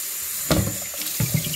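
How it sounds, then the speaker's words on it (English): Tap water runs into a Brita filter pitcher at a kitchen sink, a steady hiss with short splashy bursts as the stream shifts, close and moderately loud. "trying to get the tap water in here"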